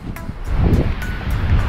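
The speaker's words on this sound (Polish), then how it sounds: "Tu mamy wodospad" Steady roar of a waterfall in Iceland, heard outdoors as a continuous broad rush with gusty wind buffeting the microphone, close and fairly loud with no voices.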